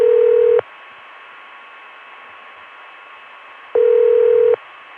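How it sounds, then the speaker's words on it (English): Telephone ringback heard from Richmond over a long-distance CCSA line: two separate bursts of steady tone a few seconds apart, with faint line hiss and hum between them and no voices. "And here's the ring from Richmond."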